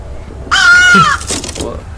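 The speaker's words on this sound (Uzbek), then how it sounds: "Kimdir kelyapti? Qarg'ami?" A single loud, harsh crow caw rings out with a game-like electronic quality, followed by a brief trailing rustle.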